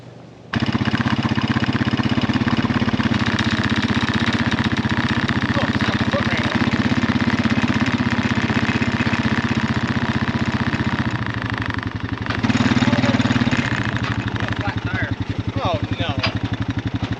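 A farm tractor engine idles loudly and steadily at close range on a vegetable farm, its low chugging drone continuing throughout with a brief dip and swell, while a voice speaks over it.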